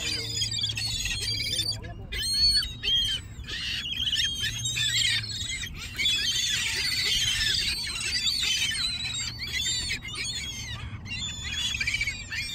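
Seagulls calling repeatedly while being fed, a steady mix of high squawks and cries from several birds close by, with people talking underneath throughout.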